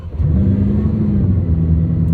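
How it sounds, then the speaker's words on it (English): Bugatti Chiron hypercar engine starting at the push of a button and settling into a loud, steady low rumble and whir close by, idling evenly without revving. "Go ahead and put your foot on the brake, push the engine button,"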